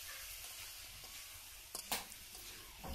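Mustard paste is stirred with potatoes and eggplant in a pan as a quiet, steady sizzle, broken near the end by a few scrapes of the spoon.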